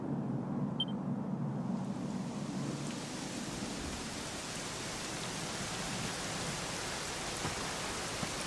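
Steady, dense rain hiss fills the scene in the video game Dragon Quest XI: Echoes of an Elusive Age Definitive Edition, with a low rumble early on that fades after a few seconds; no voices.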